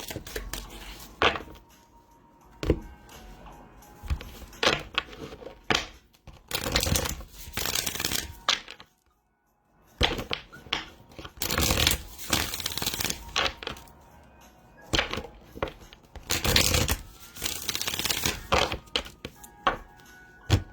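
Tarot cards are shuffled in repeated riffling bursts close to the microphone, each burst a crisp papery flutter, with brief quiet gaps between rounds.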